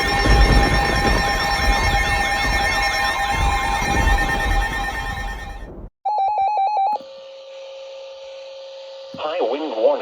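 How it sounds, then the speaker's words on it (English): A weather radio sounds an emergency alert for a tornado and high wind warning: a loud warbling multi-tone blast, then a short pause, then steady beeping alert tones and a wavering tone. "Tornado warning! First alert, WX-167."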